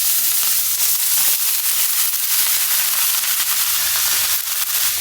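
Cauliflower florets fry in hot mustard oil, giving a loud, steady, close sizzle with crackling pops throughout and no talking.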